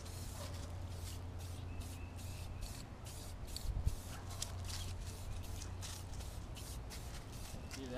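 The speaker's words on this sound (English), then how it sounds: "Give it a little test spray." A spray paint can lets out a long, steady hiss of test spray, fairly faint and continuous, with faint rustling and shuffling beneath it.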